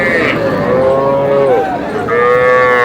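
A young bull calf at the Aftabganj cattle market lets out a loud, close, drawn-out moo, pauses briefly, then starts a second bellow.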